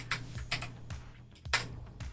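Typing on a computer keyboard while using Steam Link, a handful of crisp clicky keystrokes in an uneven rhythm, close to the mic, with a low hum underneath and no talking.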